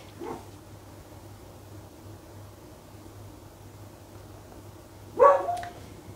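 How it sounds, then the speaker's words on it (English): A dog gives two short barks, one at the start and a louder one near the end, against a quiet indoor room with a low hum. "sorry Butch the dog, he wants me to stand on him clearly"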